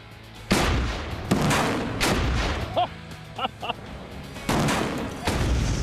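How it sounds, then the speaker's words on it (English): Explosions set off in water at high speed: several loud, booming blasts burst out one after another, each with a broad crashing spray, separated by short gaps and a few smaller pops. "And that explosion in water."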